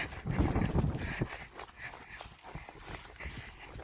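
Hooves clop unevenly on the ground as pinto mustang mares walk nearby, with some rustling and low background noise.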